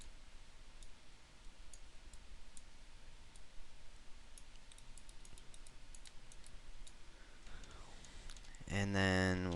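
Computer keyboard keys tapped for shortcuts while modeling in Lightwave 3D: sparse, light clicks scattered across the clip at a low level, followed by a brief tonal burst near the end.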